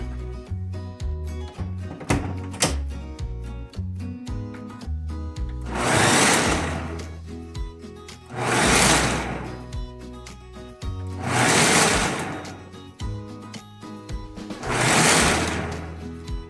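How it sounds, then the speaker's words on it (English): Soaked beans for akara are pulsed in a kitchen blender: four loud whirring bursts of about two seconds each, separated by short pauses, after a stretch of quieter clattering tones. "I always use my blender to peel the beans."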